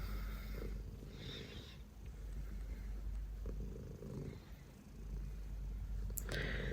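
A cat lying on a lap purrs softly and steadily, a close, low, rhythmic rumble with quiet snuffly breaths and a faint click near the end; no one speaks.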